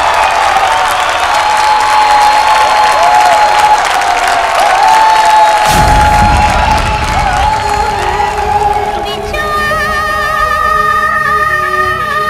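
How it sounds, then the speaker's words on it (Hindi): A studio audience at a televised dance competition bursts into loud, sustained applause with cheering, clapping densely and continuously before the crowd noise gives way to music. "आई सब जोरदार ताली से स्वागत कर जाओ गौरी चैत्री जी के"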